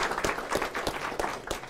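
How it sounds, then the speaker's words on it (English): An audience applauds America House at an evening talk on disinformation, a dense, steady patter of many hands clapping with no voices over it. "Everybody give America House a big round of applause"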